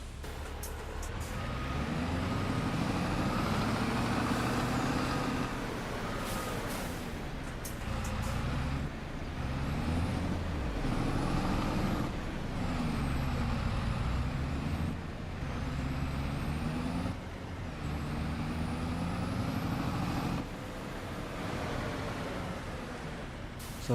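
A truck brakes in the Farming Simulator 25 video game, giving a continuous engine drone with hissing air-brake releases and shifting tones throughout, steady and close.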